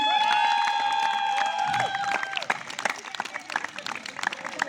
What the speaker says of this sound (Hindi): शबनम के मम्मी पापा यहाँ स्पेशली आए हैं, उनके लिए डबल तालियां